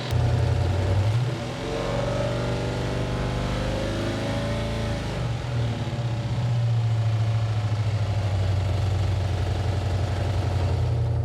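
A Pontiac 455 V8 with several exhaust leaks runs steadily, a loud close rumble that rises briefly in pitch as the revs climb and fall, then settles back into an even, throbbing idle.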